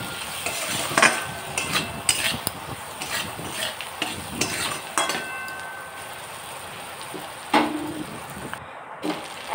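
Spice paste with onion and tomato fries in oil for a Bengali fish curry, a soft sizzle broken by repeated clinks and scrapes of a spoon stirring against the pan, close and intermittent.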